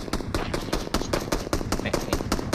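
Rapid automatic gunfire in the mobile shooter PUBG Mobile, a fast, loud, evenly spaced burst of shots running for over two seconds.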